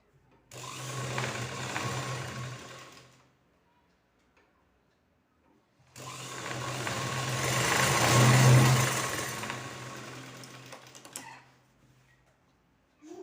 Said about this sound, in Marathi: तर आपण आता हे असे शिलाई मारून घेणार आहे.